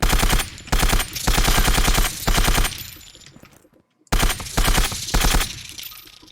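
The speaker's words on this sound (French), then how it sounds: "J'aime bien faire un bon bruit à l'arme du Père Noël." Bursts of rapid automatic gunfire ring out from a Santa-themed weapon in the shooter game Zero Sievert, with several loud volleys broken by a short pause.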